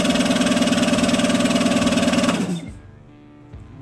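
A supercharged rat rod wrecker's engine runs with a loud, fast mechanical chatter and a steady whine from the blower, then cuts off abruptly and winds down to near quiet.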